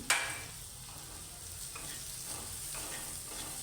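Taro leaf curry with ground dry coconut and cumin sautéed in a pan, a soft steady sizzle opened by a sharp utensil knock, with faint stirring scrapes.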